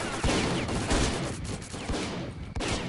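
Gunfire in STALKER Call of Pripyat cracks out in a quick irregular burst of several loud shots against a noisy background, sounding fairly close.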